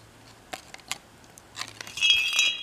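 Large jingle bells from a Dollar Tree autumn decor haul are handled, giving faint scattered metallic clinks and then a brief soft jingling near the end.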